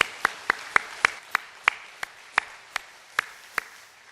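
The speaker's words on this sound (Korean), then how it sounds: "우리 하나님께 감사의 박수 올리겠습니다." A church congregation at a Korean Chuseok holiday service claps in a steady, even rhythm, with sharp, crisp claps spaced at roughly regular intervals, heard alone without talk.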